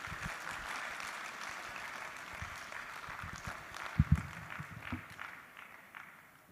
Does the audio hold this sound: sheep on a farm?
no